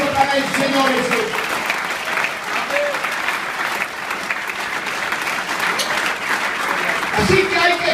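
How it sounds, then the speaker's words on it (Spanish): Loud, sustained applause from a church congregation during a Spanish-language sermon, dense clapping throughout with a voice calling out over it. "Un fuerte aplauso para el Señor Jesús"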